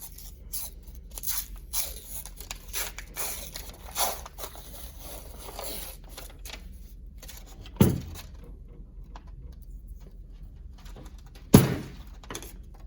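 A refrigerated pizza dough tube pops open with a sharp bang near the end, after an earlier softer thump, amid quiet kitchen handling noises and rustling.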